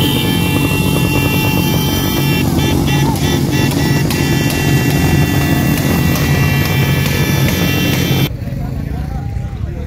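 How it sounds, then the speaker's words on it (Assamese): Many bikers ride their motorcycles into the North East Rider's Meet in Assam at night, engines droning loudly and continuously while people talk nearby. "এতিয়া বহু বাইকাৰ সকল আহি আছে"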